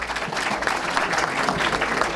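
Audience applause at the close of an economics conference, a dense, steady burst of clapping from a crowd filling the room, fairly loud and sustained throughout.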